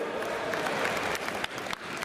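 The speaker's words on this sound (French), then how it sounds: "on les applaudit aussi, les nouveaux joueurs" An audience at a Japan Expo quiz event applauds new players, a dense, steady patter of many hands clapping close by that fills the whole stretch with a few sharper claps standing out.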